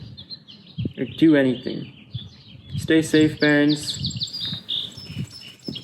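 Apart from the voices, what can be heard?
birds chirping outside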